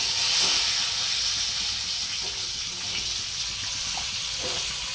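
Washed raw green mangoes frying in a hot pan with garlic, a steady continuous hiss and sizzle throughout at moderate loudness, with no talking.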